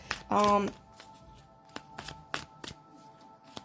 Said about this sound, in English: I'm going to keep shuffling the moon cards here